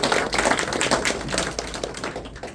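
A church retreat congregation in Korea gives a big round of applause for a speaker, dense hand clapping fairly close, strong at the start and thinning slightly toward the end, over a low background hum.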